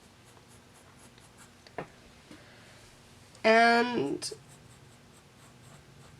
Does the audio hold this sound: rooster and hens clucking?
no